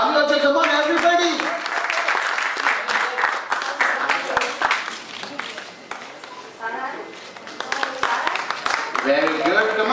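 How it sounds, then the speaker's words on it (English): An audience applauds contest winners at a KidZania event with a celebrity guest, scattered clapping rising and falling while people talk and call out over it throughout. "Come on, keep on clapping, people."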